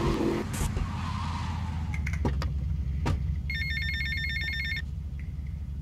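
A telephone rings in the video game GTA Vice City, a clear electronic ringtone of repeated pulses lasting about a second, set against engine rumble and a few sharp in-game clatters.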